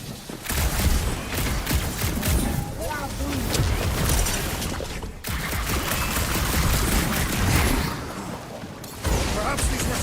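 Heavy gunfire and blasts in Marvel's Guardians of the Galaxy video game, a loud continuous barrage with rumbling explosions, under game character voices shouting.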